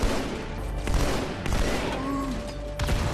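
Rapid bursts of alien weapon fire crackle densely as Grunts are shot in the video game Halo 2 Anniversary, loud and continuous, with faint sci-fi effects underneath.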